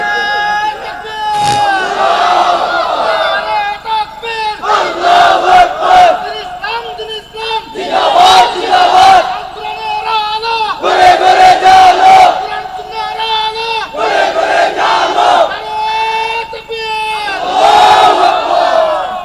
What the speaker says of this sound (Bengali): মুসলমান আওয়াজ একটা তাকবীর দাও জোরে, তাকবীর দাও ওখান থেকে।